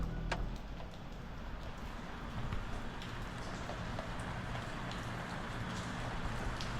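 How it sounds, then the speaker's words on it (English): Heavy rain pours steadily outside during a thunderstorm, a dense continuous hiss of drops with a few sharper patters, fairly close and moderately loud, no voices. "It's pissing down with rain."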